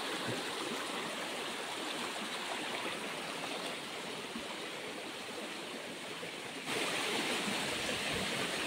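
River water flowing steadily beside a fishing spot, a constant broad rushing wash with no breaks, close and fairly even throughout, with a slight rise in intensity near the end.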